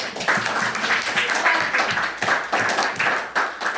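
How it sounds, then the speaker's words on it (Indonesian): A classroom of students claps together in a lesson, brisk and fairly loud applause in uneven bursts lasting a few seconds with some rhythmic emphasis. "Baik, tepuk tangan semuanya."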